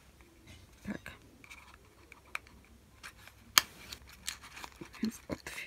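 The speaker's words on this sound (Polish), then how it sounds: "Więc otwieramy pudełeczko." Someone opens a small, nicely wrapped perfume gift box. Light rustles, taps and a few sharp clicks of cardboard and packaging come through close and faint, with brief bits of voice in between.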